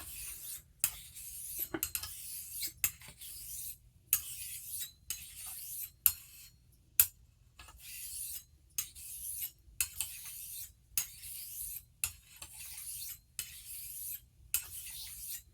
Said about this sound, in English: I'm going to do 10 more passes on this stone with a light torque.